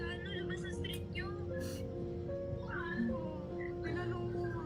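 A cat meowing in a Philippine household setting, several short mewing calls rising above steady background noise and a low hum, with some faint voices in the mix.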